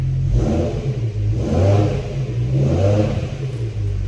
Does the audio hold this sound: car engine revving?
yes